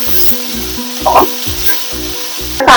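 Onion and green chili frying loudly in hot oil for fenugreek bhaji, a close, bright sizzle with a spatula scraping at intervals and a rhythmic low mechanical hum pulsing underneath.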